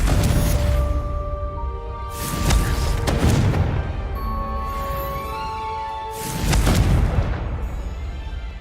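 Confringo fire-blast spells going off in Hogwarts Legacy, three heavy booming bursts with whooshing tails spaced a few seconds apart, loud and close over a low game ambience.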